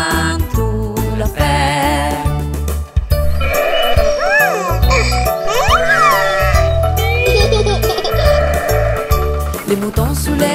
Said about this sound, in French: Les moutons sous les tracteurs fait bé, bé, bé